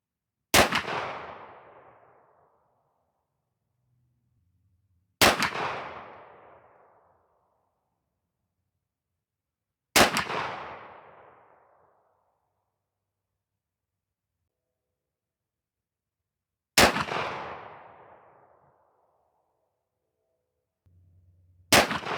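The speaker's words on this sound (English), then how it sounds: "start shooting these groups and see what these Federal Power-Shok 20 gauge slugs can do through the 301" Five loud, sharp shotgun blasts from a Stevens 301 firing Federal Power-Shok 20 gauge slugs at an outdoor range, spaced about five seconds apart, each followed by a brief echoing decay into silence.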